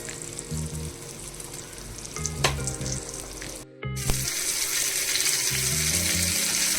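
Stuffed bangda mackerel fries in a pan, Malvani style, with a steady broadband sizzle throughout, a brief cut near the middle, then louder, brighter frying with light clinks of a utensil against the pan.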